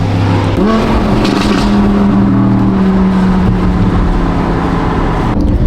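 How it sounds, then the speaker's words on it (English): A loud sports car engine with an aftermarket F1 Valtronic exhaust, a deep, aggressive exhaust note, holding a steady rumbling drone close by before a brief change near the end. "my absolute dream car with their amazing F1 Valtronic exhaust system. Sounds insane"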